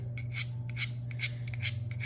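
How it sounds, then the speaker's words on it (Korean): Scissors being sharpened with a diamond file before trimming hydrangea cuttings: five short rasping strokes in a steady rhythm, close and fairly loud, over a constant low background hum. "이렇게 몇 번씩만 밀어주시면 가위가 아주 날카롭게 잘 됩니다"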